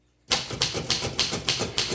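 Typewriter keys and mechanism on a 1934 Royal Model O, struck in a steady rhythm of about seven sharp, loud clacks after a brief silence, close and alone.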